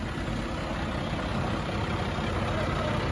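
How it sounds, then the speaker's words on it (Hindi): A tractor engine running steadily after being started, a loud, continuous low rumble close by with no breaks. "भाई ने ट्रैक्टर स्टार्ट कर दिया।"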